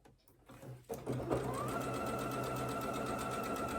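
A sewing machine chain piecing plain quilt fabric, starting after a few soft handling sounds and then running in a steady, close, continuous whir with no speech.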